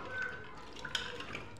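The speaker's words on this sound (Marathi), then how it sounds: "मस्त अशी धुवून घ्यायची ही भाजी, मसुराची डाळ।" Masoor dal lentils being rinsed in water: soft drips and light splashing with a few small water clinks, close and fairly quiet.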